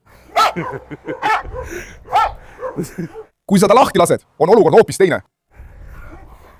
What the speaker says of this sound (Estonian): Ta haugub nüüd, sest ta on riima otsas.